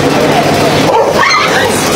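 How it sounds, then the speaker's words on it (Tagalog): Dogs fight and bark at night near a burned-out area, with sharp yips and whimpers that are close and loud, mixed with people talking over them. "Lintik na aso na yan. Aso pa lang nag-aaway."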